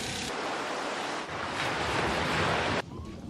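Ocean surf and churning whitewater mixing air into the water, a steady broadband wash that swells slightly before dropping off near the end, with no one speaking.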